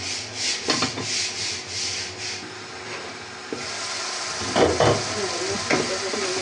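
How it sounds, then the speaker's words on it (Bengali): Spice paste with chopped green chillies frying in a pan, a soft sizzle under rubbing, scraping stirs that come in bursts, moderately close. "দিয়ে আমি মশলাটা ভালোভাবে এখন কষাতে দেবো।"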